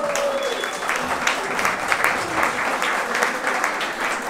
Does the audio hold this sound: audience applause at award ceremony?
yes